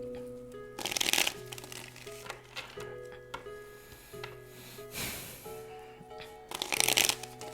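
Tarot cards shuffled in a few bursts of riffling and rustling, close and clear, over a soft background melody.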